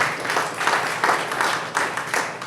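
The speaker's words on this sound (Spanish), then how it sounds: "Denles aplauso al Señor." A church congregation claps in praise during a sermon service, rhythmic rounds of clapping swelling in regular beats, close and fairly loud with no speech over it.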